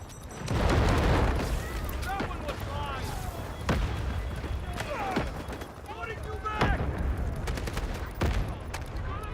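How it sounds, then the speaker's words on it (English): An SMG 45 submachine gun fires in a video game, with bursts of rapid shots over battlefield noise, explosions and game announcer voices. "Yeah, this is the SMG 45"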